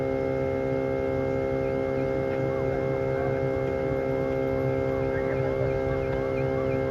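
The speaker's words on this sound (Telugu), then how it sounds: "మొబైల్ కూలింగ్ ఫ్యాన్ సౌండ్ వస్తుంది" A mobile phone's cooling fan, running at an outdoor quarry bull-racing contest, gives off a loud, steady electrical hum with several layered tones. It drones on unbroken and evenly, with no voices over it.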